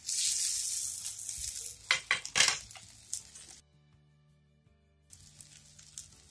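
Loud sizzling in a hot pan with a curry-leaf tempering, a burst of crackling as sago pearls are tipped in, then silence before the sizzle resumes more softly.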